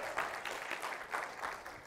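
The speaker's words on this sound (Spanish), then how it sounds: "Dan un fuerte aplauso al Señor, por favor, hermanos." Congregation applauding during a church service, a soft, distant wash of many hands clapping in loose rhythm, fairly faint and without talk on top.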